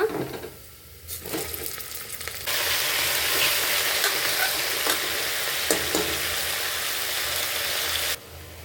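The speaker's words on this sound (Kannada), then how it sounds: "ಉಪ್ಪು ಮತ್ತು ಅರಿಶಿನ ಹಾಕಿ ಚೆನ್ನಾಗಿ ಫ್ರೈ ಮಾಡ್ಕೋಬೇಕು" Mutton pieces fry with onions in a hot pan, a dense continuous sizzle that jumps louder after a few quiet seconds of clinks, with occasional stirring knocks before it cuts back down near the end.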